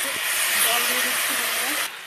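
Water poured into hot oil spiced with dried chilies, cardamom, cloves, bay leaf, cumin, and ginger and chili pastes bursts into a loud, close, rushing hiss of steam that cuts off abruptly near the end.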